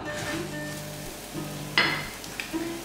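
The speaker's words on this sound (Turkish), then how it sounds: "Mantarlarım pişmeye devam ediyor. Bol bol tuz ekliyorum." Salted mushrooms sizzle steadily in a pan, with a brief clatter of stirring midway and a smaller scrape near the end; no one speaks.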